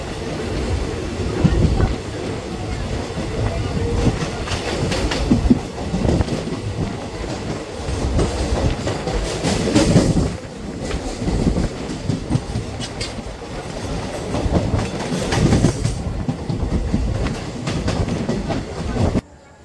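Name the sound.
Digha–Kolkata special passenger train running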